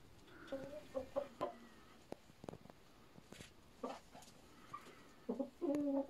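Hens in a chicken coop give soft, faint clucks and short calls in scattered bursts, with quieter rustling between them and a slightly louder cluck near the end.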